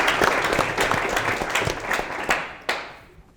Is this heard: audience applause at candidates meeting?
yes